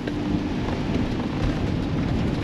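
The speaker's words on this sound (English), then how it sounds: "and of course it started to rain" Steady rain falls at a campsite, a dense broadband hiss with low rumbling underneath, continuous and fairly loud for the whole stretch, with no voices.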